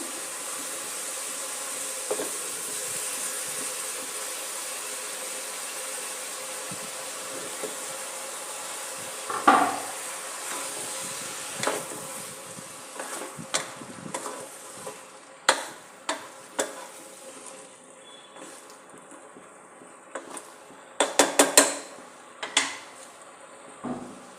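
Tomatoes tip into softened onions in a pan for a sprouted moong palya, with a quiet steady sizzle under scattered sharp spoon scrapes and clinks against the pan, growing busier toward the end.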